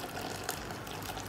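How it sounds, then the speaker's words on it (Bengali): Boiling hot water is poured onto dry lentils, giving a soft, steady, fairly faint gush of liquid over about a second. "এই ডালের মধ্যে এখন আমি ফুটন্ত গরম পানি"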